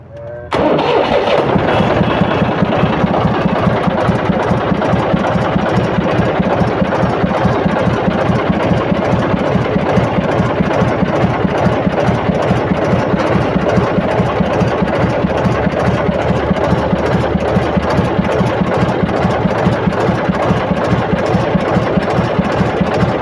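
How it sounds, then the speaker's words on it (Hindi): A tractor engine cranks and fires, then settles into a steady, loud, rhythmic chugging idle that continues unchanged, with no voices. "और अब हम ट्रैक्टर को स्टार्ट कर लेते हैं।"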